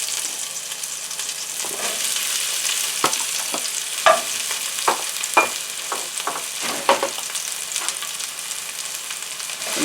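Scallions and mushrooms sizzle in olive oil in a pan, a constant close frying hiss broken by scattered clacks and scrapes of stirring, with no talk.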